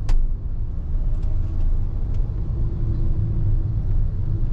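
Road traffic in Hong Kong with cars and buses, a heavy continuous low rumble of passing engines heard close by, steady and without talk.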